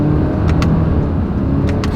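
A 2025 Subaru Forester with a CVT pulls out onto a road, its engine droning steadily and fairly loud inside the cabin with a smooth continuous hum and a couple of faint clicks.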